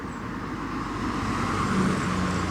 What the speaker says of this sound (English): we're just crossing the road, just waiting for the traffic to go